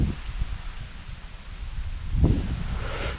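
Rain pattering on leaves and water while fishing for bass under a tree, a steady close rustling hiss with a brief louder swell partway through.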